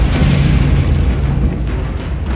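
A continuous, loud rumbling blast from the Confringo explosive curse in Hogwarts Legacy, dense low-end roar with crackling debris, close and sustained throughout before tapering slightly at the end; no voices.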